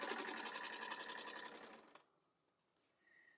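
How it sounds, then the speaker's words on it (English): A sewing machine top-stitches a cosmetic bag with a front pocket, running in a fast, even burst for under two seconds before stopping, leaving near silence with faint handling sounds. "I'm going to start top stitching right down the line"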